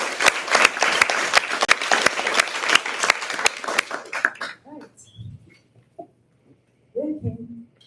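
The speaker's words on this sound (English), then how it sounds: "So can we give that a round of applause?" A round of applause from an audience at an SGA Taiwan 2025 event, sharp claps dense at first, then thinning out and stopping, followed by scattered faint voices and small noises.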